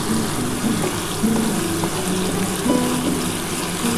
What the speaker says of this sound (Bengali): তারপরে কিন্তু আমি সামান্য একটু জল দিয়ে দেবো